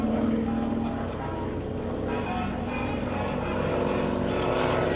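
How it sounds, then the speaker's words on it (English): A North American SNJ T-6 Texan propeller airplane flying at a World War II weekend airshow, its radial engine giving a loud, continuous rasping drone that swells slightly toward the end. "Kevin's SNJ, like I said, is one of the lowest time T6 Texan SNJ Harvards flying in the country today."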